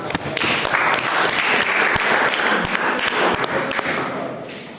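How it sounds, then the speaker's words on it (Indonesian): Classroom applause after a student presentation in an automotive engineering practice session, a dense burst of clapping with thumps and taps running nearly five seconds, fairly close and loud, fading slightly at the end. "Tepuk tangan."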